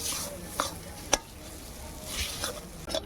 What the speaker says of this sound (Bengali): আলুটা ভালো করে ভেজে নিলে ভালো স্বাদ হয়, যত কষিয়ে নিয়ে যাবে তত ভালো হবে।